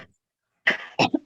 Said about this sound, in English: Who is that coughing?